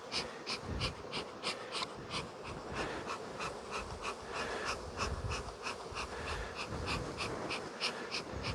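Honey bees swarm and buzz around an open hive during feeding, a steady dense drone with rapid pulsing wingbeats close by, with no voices.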